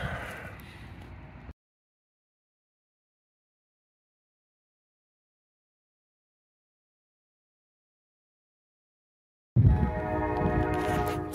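A Conrail freight train passes with its horn sounding, loud at the start, then a long silent gap before the harmonic horn blast and rumbling train return strongly at the end.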